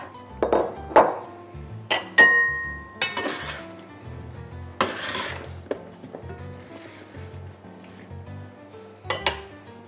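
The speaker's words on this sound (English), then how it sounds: "I'm going to add the rest of my vegetables and put some oil on and season them up" Roasted vegetables tipped into a sausage pan and seasoned, with sharp clinks of utensils against metal, scattered knocks and rattles, and a faint sizzle underneath.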